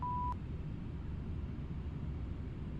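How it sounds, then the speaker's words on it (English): Flight simulator cockpit alert: one short steady electronic beep at the very start, then a constant low engine and air rumble with no further tones. "Yeah, I've got my beeps."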